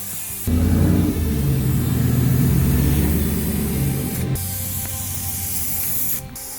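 Spray gun laying down a second coat of burgundy paint on a pickup truck, a loud steady hiss running continuously for several seconds with a compressor-like low rumble underneath, no talking.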